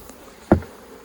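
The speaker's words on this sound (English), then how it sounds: "all these bees will be happy to go right back inside the bee box" Honey bees buzz around an open bee box during a honey harvest, a soft, faint drone with one brief, louder thump near the middle.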